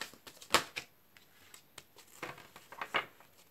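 Cards are shuffled in several quick riffling bursts, with soft taps and brushes in between, close up and with no talking.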